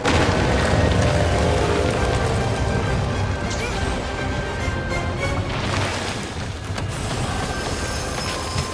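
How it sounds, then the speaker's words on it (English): A massive Wyvern Shot explosion in the Monster Hunter Rise video game, during a hunt of Thunder Serpent Narwa, roars as a dense, loud, continuous blast and rumble that lasts throughout with no talking. "Nope, this is the Wyvern Shot. It is a massive explosion."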